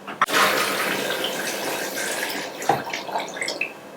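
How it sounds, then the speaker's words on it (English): Water pours steadily over coconut pieces in a blender for a few seconds, a continuous splashing rush that shifts slightly as the stream changes. "I'm adding water above my coconuts"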